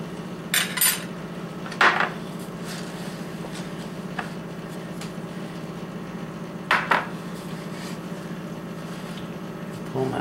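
Metal utensils clink and scrape sporadically against a dish while ingredients for orange ginger salmon are mixed, with a few sharp taps spread over a steady low background hum.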